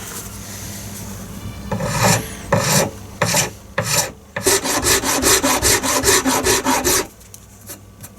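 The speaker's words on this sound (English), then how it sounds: "I'll do that with a file because it's quite close to the blade." A hand file rasps against a bushcraft knife handle close to the blade, in uneven strokes at first, then a quick run of about a dozen steady back-and-forth passes, loud and close with no talking.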